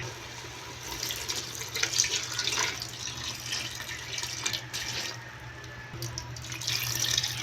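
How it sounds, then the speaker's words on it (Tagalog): Water runs from a tap and pours into a pot being prepared for chicken tinola, a steady nearby splashing stream with faint drips and no speech. "So, lalagyan na po siya natin ng water."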